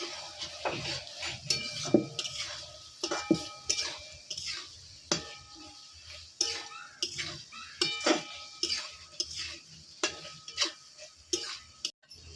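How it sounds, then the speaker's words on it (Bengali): A spoon stirs okra in yogurt curry with chopped coriander, giving a series of light clinks and taps against a metal pot in an irregular rhythm, close and fairly quiet, with no talking. "এবার আমি কুচো করা ধনে পাতা ছড়িয়ে দেবো এটা মিক্স করে নেবো আমি"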